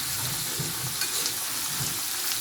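Breakfast sausage browns in a pan with a dense, continuous sizzle, close and fairly loud, plus faint low stirring bumps underneath; no voices.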